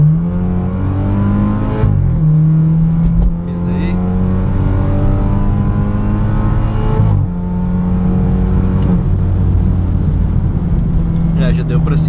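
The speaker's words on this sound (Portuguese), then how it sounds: "Vamos dar a última pisadinha aqui no modo Sport mais" BMW 320i Sport 2.0, a 2016 car with a Stage 2 tune, revs hard in Sport+ mode with a loud, steady engine drone that rises and falls twice across the stretch.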